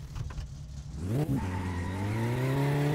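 Tires squeal in the racing game My Summer Car as a rally car slides and revs hard, a loud rising screech over a steady engine drone lasting about two seconds, with no talk.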